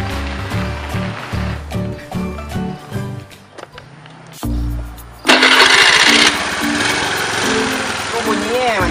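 Small motorcycle engine cranking and starting, a rhythmic chugging of several turnover pulses, a brief pause, then a loud burst as it catches and settles into a rough idle close by.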